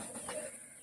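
Breeding pigeon giving a single soft, brief coo, faint and close against a quiet background with a high steady hiss.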